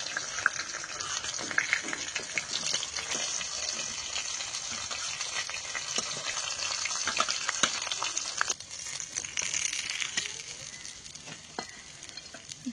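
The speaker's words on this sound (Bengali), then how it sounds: "তো পরে যে মাছগুলো আছে সে মাছগুলো ভেজে নেবো এবার।" Fish frying in hot oil in a kadai, a steady dense sizzle and crackle with small spits and pops running throughout, close and continuous with no talking.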